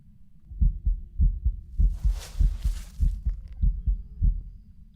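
In the Phasmophobia video game, a heartbeat picked up by a parabolic microphone, a steady low double-thump pulse throbbing repeatedly, with a faint hiss rising in the middle.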